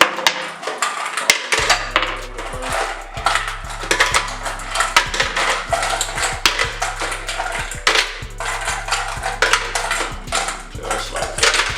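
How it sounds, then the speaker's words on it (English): Dense clattering and clinking of ice chunks being put into a blender and knocking together, continuous and busy, with a low steady hum underneath throughout. "we want to go ahead and get some ice into our blender."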